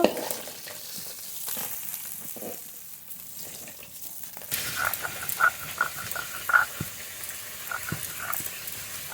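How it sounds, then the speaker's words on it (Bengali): Fish frying in hot oil for a snakehead (shol) curry, a steady low crackle and sizzle that grows busier halfway through, with a few sharper pops and spatters standing out near the pan. "মাছগুলো খুব ভালো করে ভেজে নিয়েছি নামিয়ে নেব"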